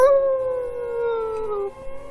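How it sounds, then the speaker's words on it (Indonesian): A dog gives a long, sustained howl that holds a steady tone, then drops away at the end, heard clearly and alone with no barking evident. "aku mendengar suara gonggongan serta lolongan anjing dari arah belakangku."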